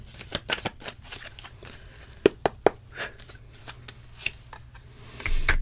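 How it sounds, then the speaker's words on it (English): A tarot card deck being shuffled by hand gives soft, faint riffling and scattered crisp taps. It is quiet and close, with no talking. "One more shuffle."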